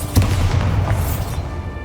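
The Bombarda blast spell in Hogwarts Legacy lands as a single loud, deep boom that hits sharply and rumbles away over about two seconds.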